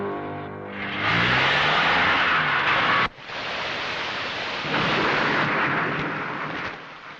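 A heavy rainstorm with thunder, from an old Telugu film, swells in from a low rumble into a loud, roaring downpour. It drops out sharply for a moment, then continues as a dense, steady wash with no talking.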